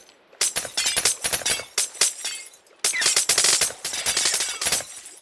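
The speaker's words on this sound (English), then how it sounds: "But it's for a good cause that I'm breaking all this glass." Large panes of glass smashed over and over while building a giant fish tank, loud close crashes and shattering bursts coming in rapid irregular clusters, with sharp tinkling debris between hits and a short pause near the middle.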